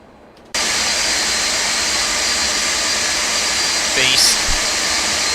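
Boeing 747 jet engines in the X-Plane 12 flight simulator switch on suddenly and roar at takeoff power, a loud, steady broadband rush with a brief higher tone near the end.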